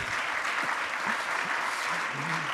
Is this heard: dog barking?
no